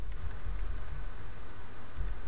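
Steady typing on a computer keyboard while entering numbers into an Excel spreadsheet, a dense patter of close key taps running throughout with no pauses.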